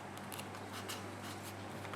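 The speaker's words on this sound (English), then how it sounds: "I'm just going to roughly trim this bottom piece off." Scissors roughly trimming paper for a junk journal: a few quick, faint snips and rustles close by over a low steady hum.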